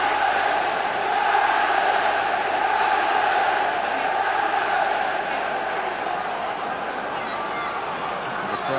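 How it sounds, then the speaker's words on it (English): A 1997-98 football stadium crowd at a Sheffield United match, a loud continuous roar of massed voices that swells and holds, with a match commentator talking over it. "Crowd here warmed up to try and provide the inspiration for the breakthrough in this game."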